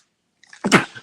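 A single sneeze bursts out close by, a quick intake followed by a sharp, explosive release, then silence.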